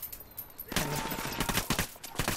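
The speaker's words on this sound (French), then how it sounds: "je voulais pas qu'il tire tout de suite" Gunfire in Ghost Recon Wildlands, with a quiet lead-in and then a sharp outbreak of rapid shots and crackling bursts that keeps going to the end, moderately loud and without speech.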